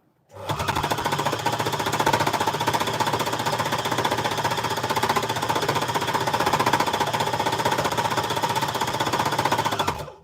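An embellisher needle-felting machine runs continuously while turning fabric scraps into new fabric, a loud, rapid, buzzing hammer of needles that starts abruptly and holds steady for about ten seconds before stopping.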